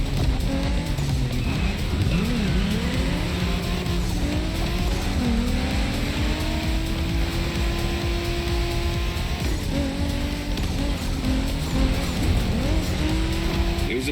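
Race cars in The Crew Motorfest video game, a Japanese-themed final race, roar continuously up close with shifting engine pitch, gear changes and squealing tires throughout.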